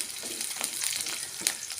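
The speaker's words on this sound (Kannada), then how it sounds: "ಇದೊಂದು 2 ನಿಮಿಷ ಫ್ರೈ ಆಗ್ಬೇಕ್ರಿ." Green chillies frying with sliced onions in a pan for gobi manchurian, a steady close sizzle with soft crackles and a brief louder pop near the end, no voices.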